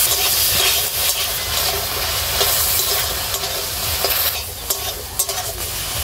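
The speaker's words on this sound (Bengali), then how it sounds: "টমেটোটা একটা চাটনি বানাবো, হালকা করে আমি এই কড়াইয়ের মধ্যে দিয়ে ভাজা করে নেব।" Tomatoes frying in oil in a wok give a loud, continuous sizzle and crackle close by, with the scrape of stirring running through.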